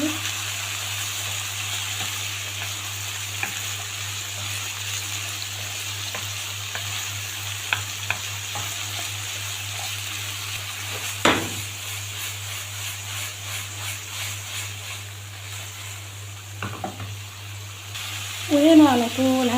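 Diced carrots sizzle in a pan as they are stir-fried, giving a steady, even hiss with faint scraping from stirring and a brief voice near the end.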